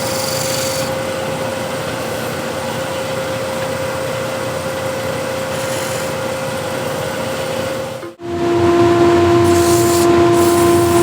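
Shear scraper working a wooden hexagon plate on a lathe: a continuous loud, steady rasping hiss over a humming tone, with a brief dip before the tone shifts higher as the cut resumes.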